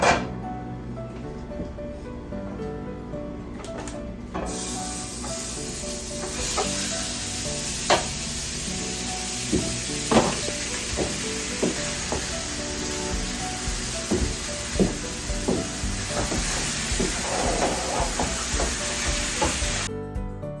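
Meat sizzles steadily in a pan on the stove for a casserole, a dense continuous frying crackle with occasional sharper pops and utensil stirs, close and loud with no talking.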